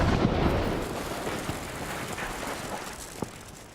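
An explosive blast scatters peat bags in a whale carcass experiment. A loud, broad rumbling burst opens at once and then slowly fades into a rough outdoor wash, with a couple of small pops near the end.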